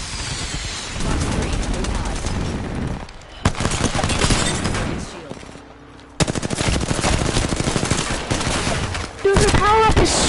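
Rapid automatic gunfire in an Apex Legends style shooter game, dense bursts of shots hammering almost continuously with short pauses, close and loud, while a player speaks briefly.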